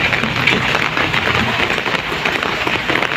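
Rain falls on a street in a steady broadband wash of patter and splashes, moderately loud and continuous, with faint background noise mixed in.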